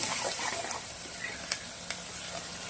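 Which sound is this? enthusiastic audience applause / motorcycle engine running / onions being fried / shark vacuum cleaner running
onions being fried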